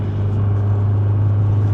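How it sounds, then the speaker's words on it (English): An Alfa Romeo engine with stock headers and stock turbo. It gives a loud, steady, deep drone with a strong low hum that holds constant throughout and has no talk over it. "stock headers, stock turbo, but it sounds this good"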